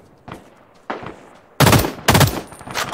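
Gunfire rings out in Ring of Elysium, first two fainter distant shots, then two loud, close, sharp bursts with a trailing shot, echoing in an open space.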